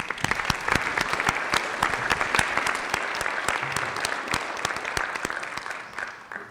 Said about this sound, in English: Let's give all of our recipients another round of applause.